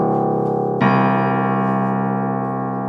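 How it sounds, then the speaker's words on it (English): A deep piano note rings out, then a second low note, the lowest C, is struck and sustains, slowly decaying with rich overtones. "do you want to play the piano a little bit?"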